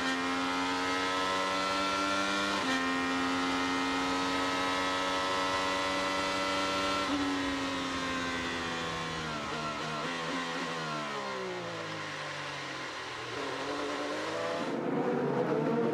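An IndyCar's engine heard onboard with Kyle Kirkwood racing the streets of Toronto, a loud sustained high-pitched whine holding through gears, then dropping sharply under braking before rising again.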